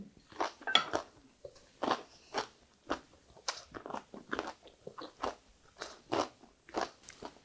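Crisp crunching bites and chewing of a vegetable roll with cucumber and carrot, a steady series of snappy crunches close to the mic with no talking.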